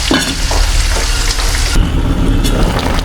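Native tilapia cooking as paksiw in a pot over a fire, with a loud, continuous bubbling and hissing simmer close by and no talking.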